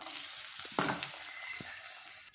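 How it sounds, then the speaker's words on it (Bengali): Dried red chillies sizzling in hot oil, a steady quiet crackle with a few sharper pops and a short stirring scrape, no voices. "এদিকে তেল গরম হয়ে গেছে, দিয়ে দেবো শুকনো লঙ্কা।"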